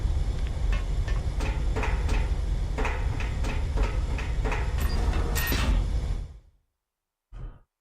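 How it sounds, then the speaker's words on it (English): Train station ambience rumbles steadily with rolling rail noise and scattered clatters and knocks, then cuts out abruptly near the end before a short burst of sound returns. "So these apparently are like train stations that we're hearing in the background"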